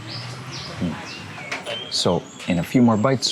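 Birds chirp and coo outdoors on Koh Samui just after rain, a mix of short tweets and soft dove-like coos, fairly near and clear, with someone talking over them at lunch.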